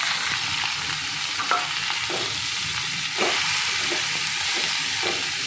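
Greens go into a pan of frying dried fish curry, making a steady hiss and sizzle with occasional stirring scrapes, close and moderately loud.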